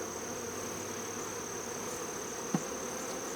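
Honey bees swarm around an Apimaye hive in a dense, steady buzz, with one brief bee zipping close by near the end.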